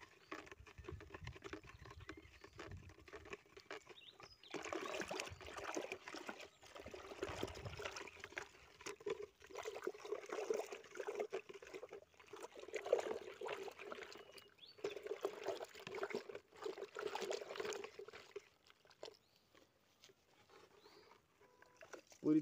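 A stick stirs copper sulfate into water, giving soft, irregular sloshing and pattering that goes on for over ten seconds, faint and close, with quieter stretches at the start and end.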